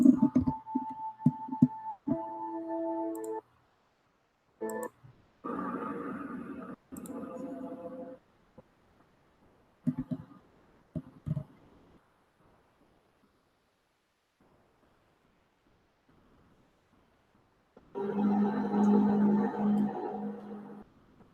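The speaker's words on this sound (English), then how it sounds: "Chilling mystery sounds recorded in Hawaii" Eerie, drawn-out brassy, trumpet-like groans from the sky in Hawaii sound in separate bursts with silent gaps between them, distant and echoing, the last one long and loud.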